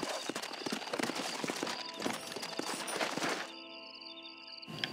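Hooves of a big horse clip-clopping at a walk in the video game Red Dead Redemption, a dense run of close hoofbeats over an ambient bed that thins out near the end, with no speech.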